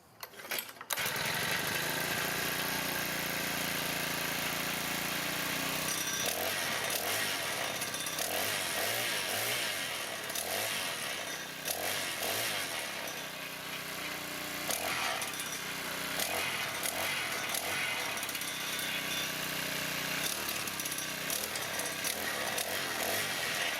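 A Honda FG100 tiller with a faulty transmission starts and keeps running. The small engine gives a loud, continuous buzzing drone close by for over twenty seconds, its pitch wavering slightly, with no speech over it.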